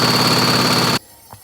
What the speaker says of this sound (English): But I'm going to throttle it hard.